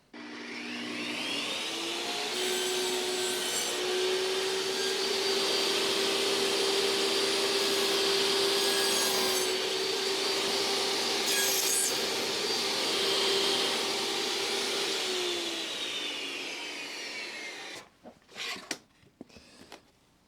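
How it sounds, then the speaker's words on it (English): A table saw with a miter gauge cuts through wood for a nightstand bookshelf, its blade at half the board's width. The motor spins up, holds a loud, steady whine through a long pass, then winds down, ending in a few sharp clunks. "I'm just going to do that on the table saw with my miter gauge"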